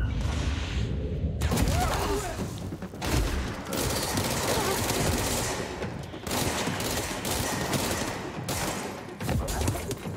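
Sustained automatic gunfire in the video game Control, dense bursts of shots rattling nearly nonstop with brief gaps, loud and close.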